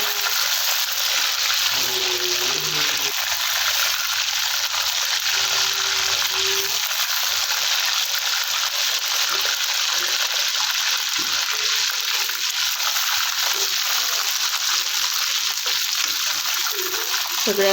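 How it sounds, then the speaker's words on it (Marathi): Pieces of fish fried one at a time in a pan for a fish curry, giving a steady, fairly loud hiss and sizzle of hot oil throughout with a few faint clinks, no talking. "फिश तळून घेत आहे एक एक करून"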